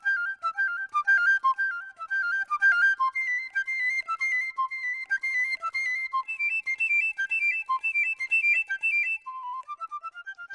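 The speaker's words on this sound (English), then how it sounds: "And another instrument is the piccolo," Piccolo playing a quick, bright melody of short trilling notes, high and clear, continuous and alone at moderate loudness.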